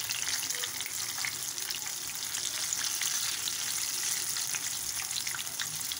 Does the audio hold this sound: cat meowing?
no